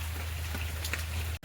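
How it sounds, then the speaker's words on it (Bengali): Steady rain falls on a farm in a continuous, even hiss of drops on surfaces, moderately quiet and unbroken by talk until a brief dip at the very end. "ফের বৃষ্টি এসছে"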